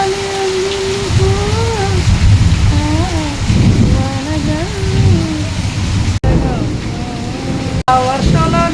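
Steady rain pours down close by in a continuous hiss while several people talk over it.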